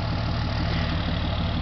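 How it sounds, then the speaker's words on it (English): A car engine running nearby in a campground, a dense, steady low idle drone with slight knocking texture, loud and unbroken for the brief moment, with no voices. "we've got a car here, sound of an engine"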